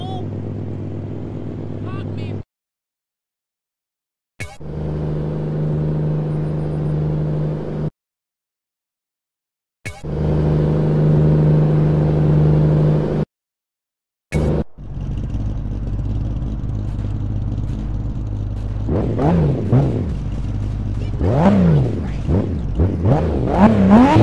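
A simulated video game car engine tuned in the Soundize sound tool plays in several bursts split by silent gaps, steady idle drone at first, then rising and falling revs near the end, loud and close.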